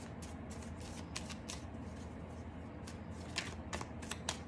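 Tarot cards being shuffled close by, soft repeated riffling bursts in quick clusters, quiet and with no talking.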